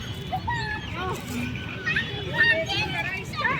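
Children playing in a playground, with overlapping high-pitched voices, shouts and chatter at a moderate distance over a steady murmur of outdoor background noise.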